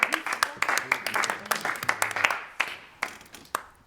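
A small group claps for themselves after a collective creative rehearsal, a scattered burst of hand claps mixed with laughter and overlapping voices, thinning out toward the end.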